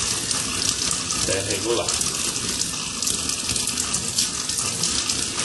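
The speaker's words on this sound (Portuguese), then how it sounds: "Então vamos abrir a torneira, vai sair um pouquinho de ar do cano, bastante ar do cano" Water runs steadily from a tap fitted with an aerating flow reducer that mixes air into the stream, making a continuous airy hiss throughout, with someone talking over it.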